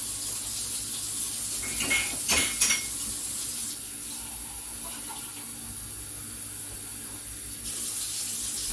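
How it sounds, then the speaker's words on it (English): Water runs steadily from a tap into a crock pot, with a few clinks of cookware early on, a constant hiss throughout. "Now we're going to fill the crock pot up with water."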